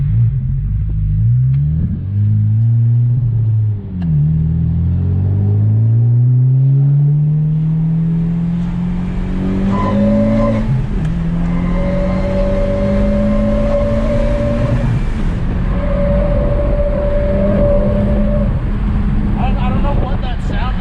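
A 2018 Honda Civic Type R fitted with an AFE Takeda cold air intake accelerates with the windows open, its engine note climbing steadily through the gears with a loud cabin rumble and a sustained whine later on.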